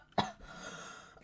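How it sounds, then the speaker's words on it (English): A single sharp cough from a sick person, close and fairly loud, followed by a brief faint breathy tail in an otherwise quiet room. "That was just me coughing."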